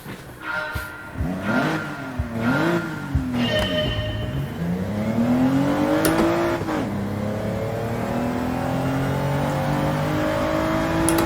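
Race car engine in Gran Turismo 7 revs up in repeated rising pulls with gear changes, then settles into a loud, steady high whine as the car holds speed, with no talk over it.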